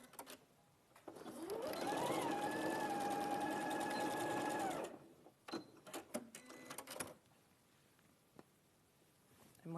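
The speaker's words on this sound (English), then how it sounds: "just sew across that top bit." A sewing machine stitches in one steady run of about three seconds, then stops; a few faint handling knocks and clicks follow in a quiet room.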